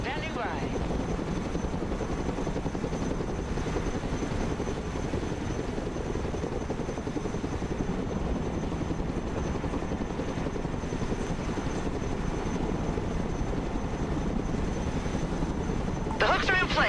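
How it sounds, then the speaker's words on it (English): A Chinook heavy transport helicopter flies low and slow in the Broken Arrow video game, a steady dense rotor and engine drone holding throughout at constant loudness. "Low and slow. Heavy transport ready. Chinook standing by."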